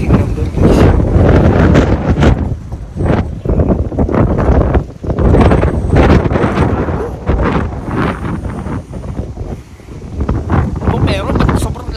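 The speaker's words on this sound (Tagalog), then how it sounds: "ba't sobrang lakas ang hangin guys" Strong wind buffets a phone microphone outdoors in Canada, loud rough gusts rising and falling in continuous bursts that swamp everything else.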